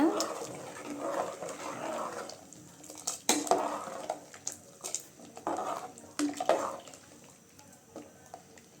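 Spoon strokes through tiffin sambar in a cooking pot after coriander leaves and small onions go in, giving several intermittent scraping and clinking bursts at close range, with quiet gaps between strokes.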